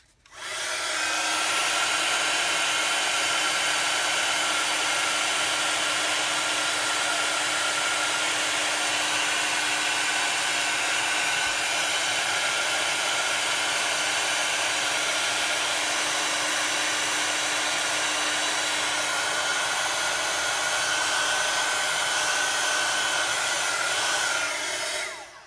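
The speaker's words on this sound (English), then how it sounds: "I'm just going to come back in with my heat tool again to set the other side." A heat embossing tool blowing hot air while setting embossed card, a loud unbroken whirring hiss with a steady hum that runs almost the whole time before cutting off, alone with no speech.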